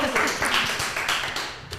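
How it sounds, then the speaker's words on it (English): An audience gives a short burst of applause for a speaker introduced on stage. The clapping is moderately loud and scattered and fades slightly over a brief moment. "Big round of applause for Agata!"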